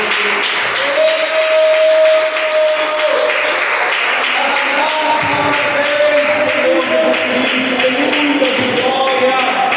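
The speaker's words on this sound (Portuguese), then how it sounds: "Aplauda o nome de Jesus." A church congregation applauds during a Portuguese-language evangelical service, with loud dense clapping throughout while a voice and sustained musical tones carry over it.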